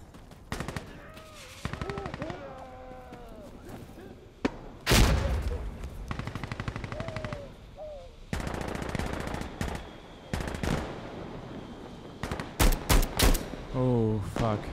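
Gunfire in Insurgency Sandstorm during a bomb defusal match, loud rapid automatic bursts and single shots in clusters with a heavy blast near the middle, while a player talks now and then.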